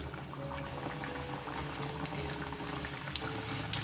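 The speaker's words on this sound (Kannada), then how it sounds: "ಸೊ ಇದನ್ನು ನಿಧಾನಕ್ಕೆ ಮೀಡಿಯಮ್ ಫ್ಲೇಮಲ್ಲಿ ಕರ್ಕೋಬೇಕು" Roasted gram and fenugreek leaf snack fries in oil over a medium flame, a dense, steady sizzle and bubbling that stays close and even throughout.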